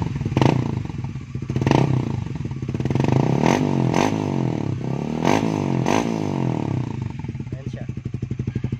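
A Suzuki Raider 150 Fi motorcycle with an aftermarket Vietnam-made stock-copy Kalkal exhaust pipe rumbles close by with a raspy, loud exhaust note, revving in repeated bursts with clattery pops between throttle blips.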